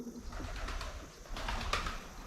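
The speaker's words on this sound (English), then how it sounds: "You hear the pigeons cooing." Pigeons coo softly in the distance beside a riverside fishing spot, low and muffled under steady outdoor ambience.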